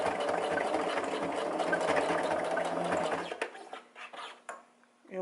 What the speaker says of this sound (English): So right on into it and back stitch a few times.